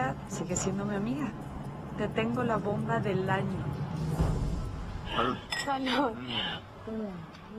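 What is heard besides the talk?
glasses clinking in a toast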